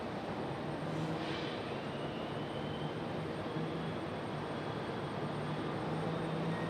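A Boeing 737 jet bound for Salt Lake City at Raleigh-Durham International on a stormy day, a continuous engine rumble with a faint tonal whine, steady throughout and without talk.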